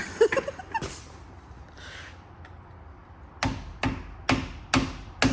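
Sharp metallic hammer strikes ring out, a few quick taps early, then five evenly spaced heavy blows after a quiet pause.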